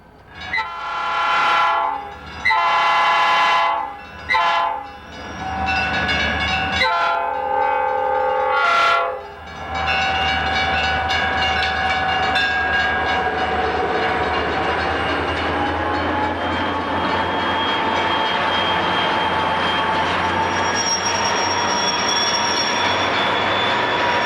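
Corp freight locomotives labor up the steep Siskiyou mountain grade, loud and close: horn blasts in the first seconds, then a sustained engine roar with wheel squeal and rolling cars carrying on steadily throughout, no voices.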